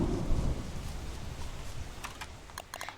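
Rain falling in the video game Don't Starve, a steady soft hiss with low rumbling underneath and a few sharp clicks near the end, with no voices.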